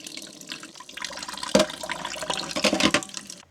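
Water runs from a tap into a campervan kitchen sink that drains slowly, a steady close splashing and trickling with uneven surges and gurgles, no voices.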